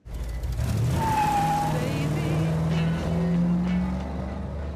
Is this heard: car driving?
yes